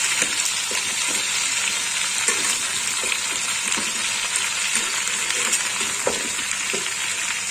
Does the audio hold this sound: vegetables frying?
yes